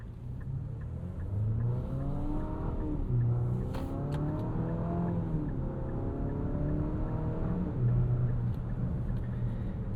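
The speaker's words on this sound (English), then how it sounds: "you hear the 2-liter VC turbo, which, some of that is piped in engine noise, but most of it is just the engine because it's kind of loud" Inside a 2027 Infiniti QX65 coupe SUV, its 2-liter VC turbo engine hums and rises as the car gets going, a steady droning tone climbing and easing over constant road noise.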